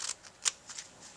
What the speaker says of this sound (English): I'm just going to cut that out with fabric scissors